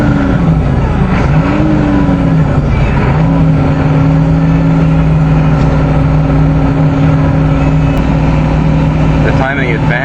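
A 6.9L diesel motorhome engine idling at a cold start in snow, with its timing advance stuck on and its fan clutch stuck on, giving a loud, steady clattering rumble and a droning whine that shifts pitch and then settles.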